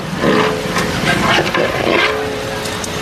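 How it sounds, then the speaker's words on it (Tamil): Onions sauté in a pan for beef biryani, giving a constant crackling sizzle with soft scraping from stirring, close and fairly loud over a few seconds, with no talking. "வெங்காயம் வந்து இப்போ நம்மளுக்கு ஒரு அரை வேக்காடில் வெங்காயம் வதங்கியிருக்கு."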